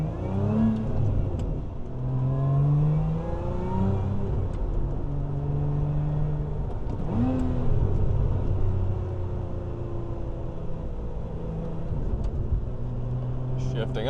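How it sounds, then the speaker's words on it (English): Lotus Emira V6 engine revving through upshifts and downshifts on a drive in the Hollywood Hills, its rising and falling pitch sweeping repeatedly as gears change, steady and close beneath someone talking throughout. "Shifting up, just to shift down again."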